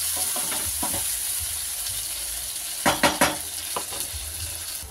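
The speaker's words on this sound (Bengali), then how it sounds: "এবার আমি এই বেটে রাখা মশলাটা এতে দিয়ে দিচ্ছি। এটাতে একটুখানি কষে নিই" Ground spice paste fries in hot oil in a pan, a steady sizzle broken by a few sharp scraping stirs near the middle, close and moderately loud with no voices.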